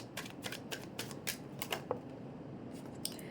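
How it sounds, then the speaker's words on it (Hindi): Tarot cards shuffled and drawn in a reading: a run of short, crisp riffling and snapping bursts at irregular intervals, close and fairly soft, with no voice over them. "कुछ कार्ड्स और ले लेते हैं।"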